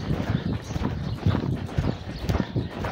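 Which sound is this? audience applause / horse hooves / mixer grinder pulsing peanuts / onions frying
horse hooves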